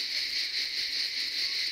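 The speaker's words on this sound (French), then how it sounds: "Qu'est-ce que c'est qu'on entend? Les cigales." Cicadas drone in a steady, dense chorus on a summer night on holiday, a continuous high buzz pulsing slightly, loud and close with no talk.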